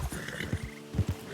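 A horse walks in a video game, its hooves giving soft, evenly spaced clip-clops at a moderate distance, fairly quiet.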